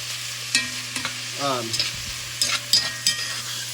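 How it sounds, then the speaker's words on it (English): Onions and hog jowl are stirred in a cast iron pan over low sizzling, with several sharp scrapes and clacks of a utensil against the iron, close by. "We're gonna stir this up just like that in cast iron"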